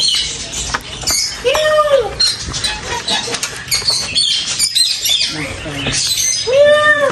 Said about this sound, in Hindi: यहाँ पे ना किस्म किस्म के ना बर्ड्स हैं भाई